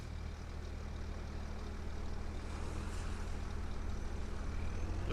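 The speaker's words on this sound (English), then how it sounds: "The roar of the tractor." Tractor engine in the Farming Simulator 25 video game gives a steady, continuous low drone throughout, with no speech over it.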